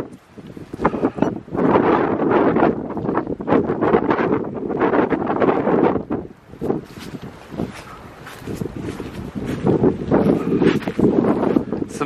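Strong wind blows outdoors around an abandoned house, buffeting the microphone in loud, roaring gusts that swell and ease for the whole stretch without any talking.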